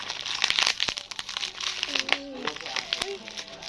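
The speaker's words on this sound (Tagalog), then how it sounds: "Ayan, mag-unboxing na tayo. Wala na akong gunting," Plastic packaging from a delivered parcel ripped open by hand without scissors, bursts of crinkling and tearing close by, with someone talking and faint higher voices in between.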